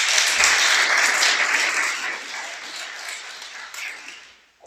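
Loud audience applause breaks out at a sermon, a dense crowd of clapping hands kept up for about four seconds before it tails off, with no voices over it.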